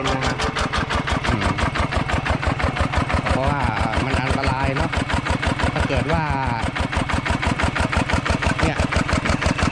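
A small RT110 diesel tractor engine idles nearby with a steady, rapid chugging rhythm, while someone talks over it.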